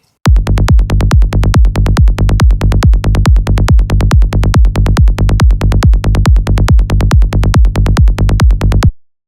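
Psytrance kick and rolling bass play together in a steady, fast, driving pattern, loud and continuous for about nine seconds with no voices.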